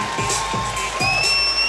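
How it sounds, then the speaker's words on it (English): Crowd at a CAGE 50 MMA fight cheers and applauds after a unanimous decision, a steady loud wash of voices and clapping throughout, with a few whistles rising near the end. "And the crowd is liking it."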